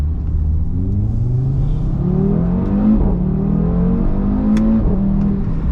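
An Audi RS3 engine revs close by with a loud, steady rumble, rising and falling through a few climbing revs over several seconds, with no talk.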